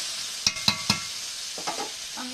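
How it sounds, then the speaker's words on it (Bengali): Chicken meat is stir-fried in a pan for kosha, with three sharp spatula scrapes against the pan followed by softer stirring over a steady sizzle. "কিছুক্ষণ কষা হবে এই মাংসটা।"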